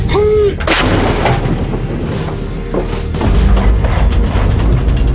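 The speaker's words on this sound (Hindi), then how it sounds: "130 mm टोड फील्ड गन रूसी मूल की तोप है" A 130 mm towed field gun fires with a loud, deep boom, followed by rumbling echoes and wind noise rolling on for several seconds.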